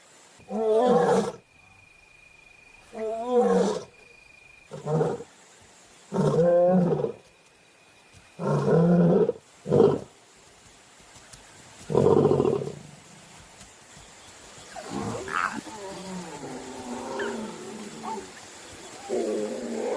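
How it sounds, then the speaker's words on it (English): A lioness roars at night to regroup her pride, a series of deep, booming grunting roars repeated in rhythmic bursts with short pauses, loud and close, fading into softer grunts and ambient night noise. "This is how a big pride stays together in the dark, as the roar can be heard over 8 kilometers away."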